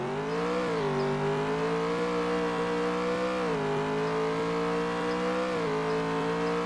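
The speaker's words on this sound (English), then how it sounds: "Almost each car in this game sounds like either a Mustang or a bus." A car engine revs in a Roblox driving game, a loud, buzzy, sustained drone whose pitch climbs and dips several times, heard alone without talk until it cuts off abruptly.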